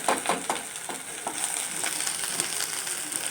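Oil frying in a pan while an eggplant gravy is being made, a steady bright sizzle with a few sharper crackles and spatters early on, close and continuous.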